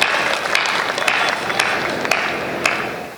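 Steady crowd applause with dense, continuous clapping, some sharper individual claps standing out, fairly loud and unbroken throughout.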